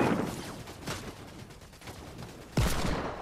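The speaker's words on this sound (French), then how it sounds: "Ouais, ça tire là." Gunfire in the video game Fortnite, played in a father-and-son match: a dense, continuous burst of shots with a sharper, louder volley near the end, and no talk.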